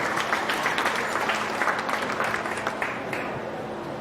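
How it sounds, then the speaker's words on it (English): A crowd at a county fair beef show applauds exhibitors in the Hereford heifer division, a steady wash of mid-distance clapping that holds evenly for about four seconds and tapers slightly at the end. "Give all those exhibitors in the Hereford division a nice round of applause."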